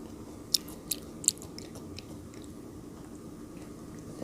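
Large frozen grapes are bitten and chewed up close, with a few crisp, icy crunches in the first second and a half, then softer, quieter chewing over a low background hum.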